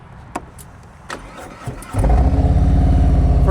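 A motorcycle engine cranks briefly and catches during advanced slow-speed riding practice in North Carolina, then settles into a loud, close, steady rumbling idle after a few faint ticks and clicks.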